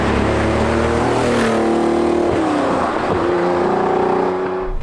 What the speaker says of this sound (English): There is nothing like a carburetted Ferrari flat 12 to get you up in the morning and to really stir the senses.